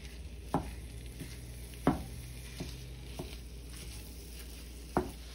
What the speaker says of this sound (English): I'm just going in with some olive oil, and to this I'm going to go in with my ground beef.